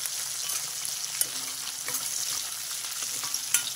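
Dried fish and onions stir-frying in a pan for an onion curry, a steady bright sizzle with occasional scraping stir clicks, close and continuous with no talk.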